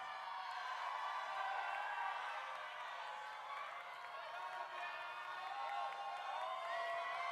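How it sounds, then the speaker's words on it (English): Large audience cheering and whooping at the 2011 Miss Universe preliminary competition, a sustained roar of many voices with scattered whistles and shouts, steady and loud throughout. "this is great that you are cheering in here"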